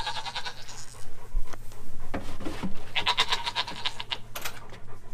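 Goats bleat several times in short, wavering calls, some close and loud, over a low steady background hum.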